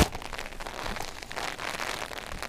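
Wind and rain hit a deserted beach, making a dense, even hiss of drops with gusty buffeting close to the microphone. The sound is steady and fairly faint, with no voices.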